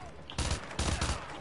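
Gunfire in Call of Duty: Modern Warfare 2 Remastered, two loud close bursts of rapid automatic shots in quick succession, sharp and punchy.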